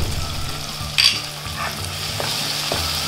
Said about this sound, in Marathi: 2 मिनिटं परतून घेते